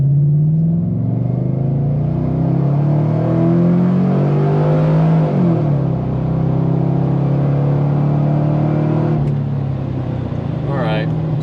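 A Chevrolet Silverado vortecMAX with a new cam accelerates hard at wide open throttle, a loud cabin engine drone climbing steadily in pitch, dipping at a shift, then rising again.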